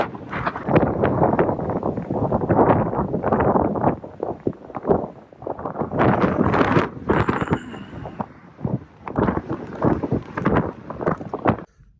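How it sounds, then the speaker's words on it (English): Cold wind buffeting a microphone on the open deck of a Carnival cruise ship near Gibraltar at sunset, loud continuous rumbling gusts with brief lulls and no talking. "that wind was cold off that boat, that deck"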